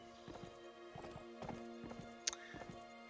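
Rhythmic clip-clop of horse hooves plodding steadily in the fantasy video game PLOTR, with a brief sharp chime partway through, heard alone and without talk.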